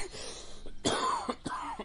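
A person coughs several times in quick, harsh bursts close by, with a rasping throat-clearing quality.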